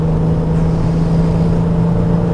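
Turbocharged 3.6-litre VW Tiguan R36 engine pulling hard under acceleration, a steady loud droning hum with a strong low tone, heard from inside the cabin with no talk.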